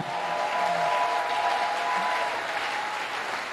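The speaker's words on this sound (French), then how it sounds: "Acclame très fort pour le Seigneur." A church congregation at an anniversary service claps and cheers for the Lord, producing a dense, steady roar of applause that fills the space evenly from start to finish with no break.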